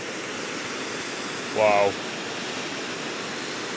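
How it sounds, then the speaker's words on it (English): Waterfall on the grounds of a Victorian royal estate, a steady broad rushing roar that fills the whole scene at constant loudness, with a brief spoken exclamation over it. "And here's the waterfall."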